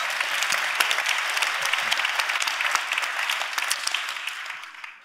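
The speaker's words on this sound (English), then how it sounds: "Ryan, I think somebody wanted to clap for that" An audience at a church conference breaks into applause, a dense wash of clapping that holds steady for several seconds and then tapers off.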